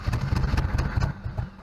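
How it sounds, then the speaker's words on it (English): A boat's port motor fires up and idles roughly, a close, steady low engine rumble with uneven pulses throughout the short stretch, with no voices. "That's the port motor firing up right there."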